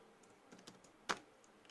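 Faint, sparse keystrokes on a computer keyboard while C code is being typed, a few soft clicks and one sharper key press, close and quiet with no talk.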